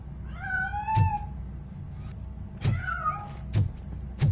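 A cat in the video game RoboCop: Rogue City gives two rising, drawn-out meows, close by, with dull thumps and clunks scattered between them.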